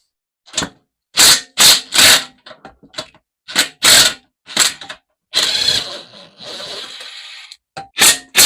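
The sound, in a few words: socket wrench removing lawnmower engine bolts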